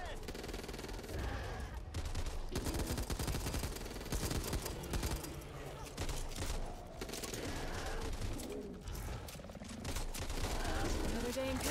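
Dense, continuous gunfire and combat noise from the zombie shooter game Back 4 Blood fill the whole stretch, loud and unbroken, with rapid bursts layered over a busy game soundtrack.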